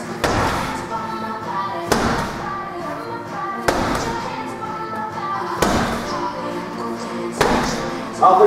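A ball slammed against a wall during wall ball exercises lands in five heavy, evenly spaced thuds about two seconds apart, loud and close in an indoor gym.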